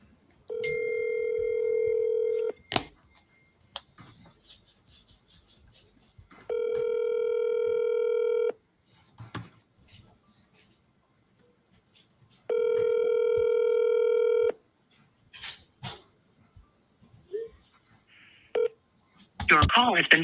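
A phone call rings out with three long, steady electronic ring tones separated by pauses, close and fairly loud, while a person mutters and shuffles quietly in between.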